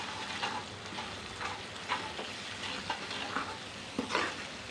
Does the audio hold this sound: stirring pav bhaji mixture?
yes